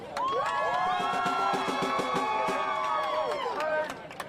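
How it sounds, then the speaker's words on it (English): Protest crowd of students outside a university commencement, loud and close, breaking into cheering and whooping with some clapping; several voices shout and whistle together in a sustained burst that fades near the end. "A very loud round of applause."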